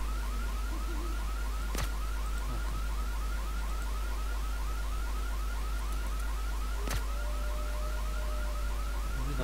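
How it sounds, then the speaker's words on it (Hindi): Alarm blaring in the video game IGI 2 Covert Strike, a steady repeating electronic warble that cycles rapidly and continues unbroken throughout, with two sharp gunshot-like cracks cutting through it. "ये अलार्म बज गया है और इतने सोल्जर निकल रहे हैं"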